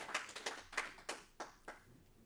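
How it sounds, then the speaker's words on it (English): Small group claps in a quick, uneven patter of separate hand claps, fairly faint and thinning out over about two seconds, at the close of an event about Afrocentric schooling honoring Dr. Nah Dove. "one more time, rousing applause for Dr. Dove and everybody online around the world"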